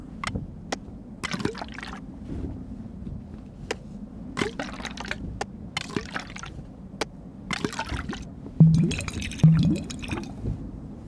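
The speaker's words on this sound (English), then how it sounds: "You make me drink all my water." Drinking water in the video game Cairn: a run of small wet drips, squishes and liquid sloshes, close and fairly quiet, repeating irregularly with a slightly louder gulp-like burst near the end.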